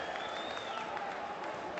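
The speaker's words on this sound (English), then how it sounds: "Cue the cheers" Sparse stadium crowd cheering and applauding at a Scarlets v Ulster rugby match, a steady wash of scattered claps and cheers from a thin crowd over a short stretch.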